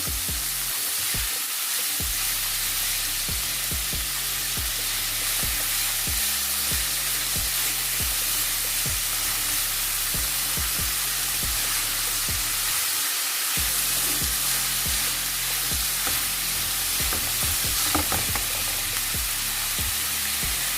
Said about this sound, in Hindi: इसको फिर से 2 मिनट तक भूनेंगे